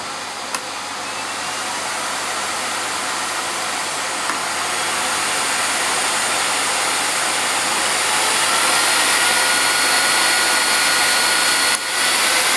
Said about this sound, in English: I'm going to switch it on just to judge the noise level and the suction, but I'm going to start it off on the minimum setting.